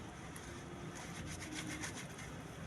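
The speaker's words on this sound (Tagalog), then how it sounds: "Labahan natin mabuti para matanggal yung mga dumi at mga asim at mga pawis natin." Hand-scrubbing laundry, rubbing the underarm area of a garment to clear dirt, sourness and sweat, gives a steady near rasping rub with short scraping bursts, alone with no talk.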